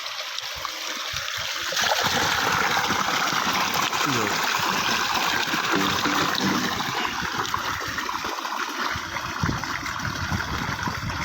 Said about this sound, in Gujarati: મમ્મીએ જો મોટર ચાલુ કરી છે કુંડા ભરવા.